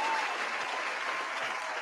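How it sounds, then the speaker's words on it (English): Studio audience cheering and applauding on a live-stream talk show, a dense steady wash of clapping and cheers that holds at an even level for under two seconds with no talk over it. "Audience cheering."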